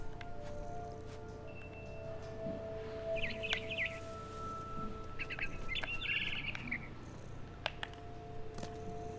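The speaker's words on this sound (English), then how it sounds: "Then I heard chirping outside my window. It was a barn swallow going back to her nest." A barn swallow in the game What Remains of Edith Finch gives two short bursts of rapid, high chirps, fairly faint against a steady low ambient hum and scattered soft clicks.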